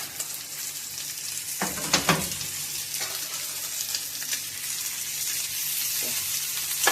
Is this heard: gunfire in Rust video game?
no